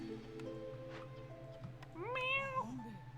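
A house cat meows at a door, one drawn-out, rising and falling meow standing out clearly over a steady background hum and music from a city-building game, Against the Storm.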